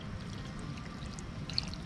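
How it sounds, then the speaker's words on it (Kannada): Water poured into a peanut chicken curry in a pan: a faint, steady trickle of pouring under low background noise, with no talking. "ಇವಾಗ ಸ್ವಲ್ಪ ನೀರು ಹಾಕ್ತಾ ಇದ್ದೀನಿ, ಸ್ವಲ್ಪ ಅಷ್ಟೇ"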